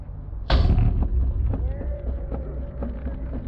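A football strikes a goal post during a long field goal attempt: one sudden loud impact close by, then a fading rumble and faint ringing under wind noise.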